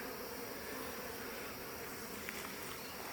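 Honey bees buzzing steadily inside an opened hive crowded with swarm cells, pollen and nectar, a dense unbroken drone close by and fairly quiet with no voices.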